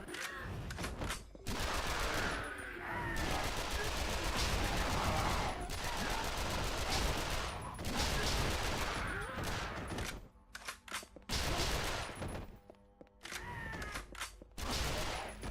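Submachine gun fire in the video game Yakuza Dead Souls: dense, loud sustained bursts with brief gaps, layered over game noise, while a voice speaks faintly beneath.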